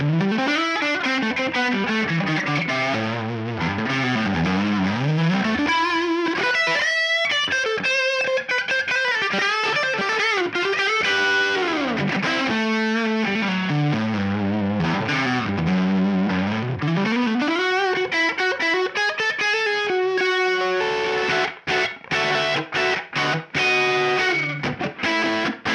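Electric guitar through a budget Dumble-style amp, a thick, saturated, slightly chorused tone playing sustained bends and melodic phrases, loud and close throughout, ending in choppy staccato notes, with no speech.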